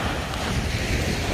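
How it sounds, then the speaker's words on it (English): Ocean waves wash onto a beach with a steady, broad roar and wind noise on the microphone, continuous and close for the whole short stretch, with no talk over it. "The waves in the ocean."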